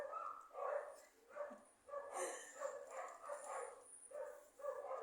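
Several dogs barking excitedly at a garbage truck passing on the street, a run of repeated yapping barks with short gaps, fairly close and loud with no talk over them.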